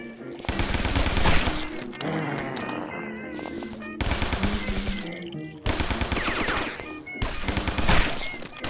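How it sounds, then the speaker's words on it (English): Tommy gun in Guns, Gore & Cannoli fires in several loud, rapid automatic bursts separated by short pauses, with game music and effects between the volleys. "Nothing beats the good old Tommy gun."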